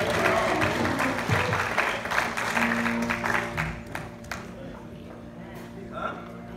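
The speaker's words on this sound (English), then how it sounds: "Let's give the Lord a hand clap of praise." Church congregation at a Baptist anniversary celebration clapping their hands in praise, a dense burst of applause mixed with voices and a sustained organ-like tone, tapering off into quieter murmuring and talk.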